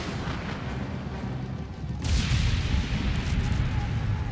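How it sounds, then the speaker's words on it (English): A cannon fired at a mountaintop in a children's storybook reading, a single deep boom that comes in abruptly midway and leaves a sustained rumbling roar over a steady background. "Mulan tilted the cannon and fired at the mountaintop"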